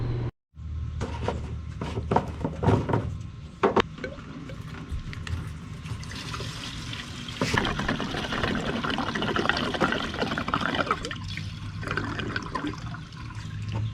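Gasoline pours into a carburetor float bowl, a steady liquid splashing and trickling close by, with a few clunks of handling early on.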